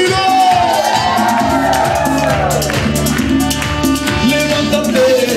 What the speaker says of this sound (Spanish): ¡Y denle un grito de júbilo!